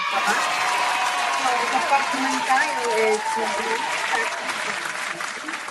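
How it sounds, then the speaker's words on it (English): Applause breaks out in a business training class on managing customer expectations, a steady wash of clapping with voices talking over it throughout. "so round of applause to everyone"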